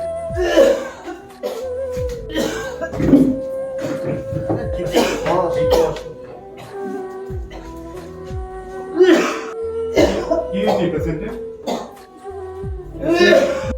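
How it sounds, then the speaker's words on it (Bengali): Repeated bursts of harsh coughing from a patient in a doctor's chamber, several fits spread over the span with sustained tonal background sound running beneath them. "প্রচন্ড কাশি"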